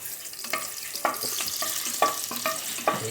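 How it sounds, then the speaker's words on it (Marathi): Garlic fries in a few spoonfuls of oil, a soft sizzle beneath rhythmic scraping and clinking from stirring roughly every half second, fairly quiet and close, with no voices. "थोडं लालसर होईपर्यंत त्याला हे करू द्यायचं, शिजू द्यायचं लसूणला."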